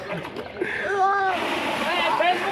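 A person plunges into water with a splash and churning slosh, heard close amid a lively crowd and a commentator's voice talking over the scene.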